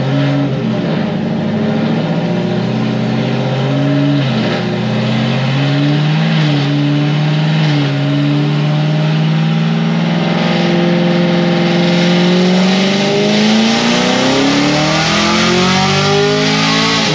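A 1000-horsepower Stage 4 sixth-generation Camaro ZL1 accelerates hard, its loud, close engine roar climbing steadily in pitch through the revs with a rough, throaty edge, no voices over it.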